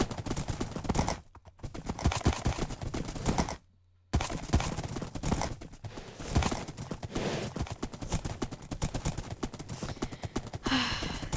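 Donkey hoofsteps from Minecraft, a steady clip-clop of hooves running through dense, busy game sound, with a brief gap of silence partway through.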